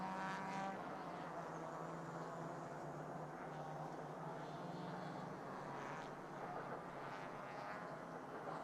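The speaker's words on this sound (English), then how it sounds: "Already the next track action getting out onto the circuit, so we might have to fight with engine noise just a little bit." Porsche Carrera Cup race cars run on the Ningbo circuit, a distant, fairly faint engine drone that swells and fades as cars pass, with no talk over it.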